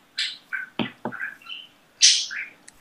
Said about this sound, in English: Bentley's budgies chirp like mad.